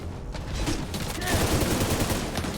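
Rapid gunfire from The Division 2 as barrels are shot, a dense burst of repeated shots and impacts that grows louder midway and keeps going to the end.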